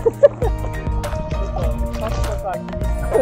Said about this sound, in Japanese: めっちゃ波あります。